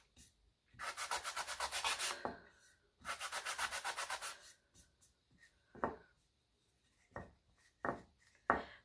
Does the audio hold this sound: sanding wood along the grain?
yes